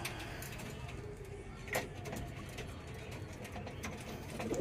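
Pigeons coo softly in a loft, low murmuring calls under a faint background hum, with one brief knock partway through and a quiet voice speaking.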